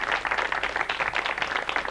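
Dense, steady clapping from a French television studio audience during a 1991 teleshopping show, close and continuous for a couple of seconds with no voices over it.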